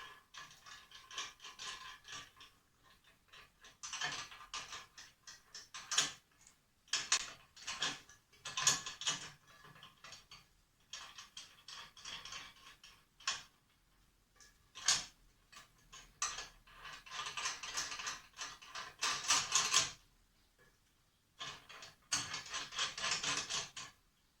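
A blade tensioner on an electric scroll saw being screwed and unscrewed, giving intermittent bursts of close, dry mechanical clicking and ratcheting separated by short quiet pauses, with no talking.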